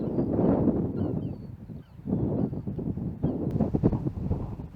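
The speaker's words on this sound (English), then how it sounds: "The wind is still incredibly strong, and it's very difficult to walk against it" Strong wind buffets the microphone on a coastal clifftop walk at Baggy Point near Croyde, a continuous loud roar with gusts that swell and dip across the whole stretch.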